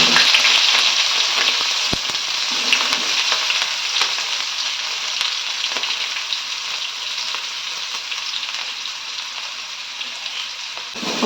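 Chopped onion frying for a tempering, a loud, close crackling sizzle of hot oil with scattered sharp pops, steady throughout and slowly easing.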